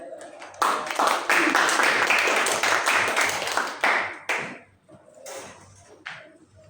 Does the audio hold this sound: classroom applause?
yes